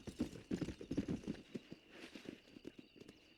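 Horse hooves clip-clopping in Red Dead Redemption, a quick, uneven run of muffled thuds in the foreground that is dense and rhythmic at first, then thins into sparser steps, with no talking.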